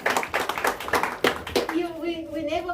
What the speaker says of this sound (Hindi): तो इतना ताली भी होना चाहिए।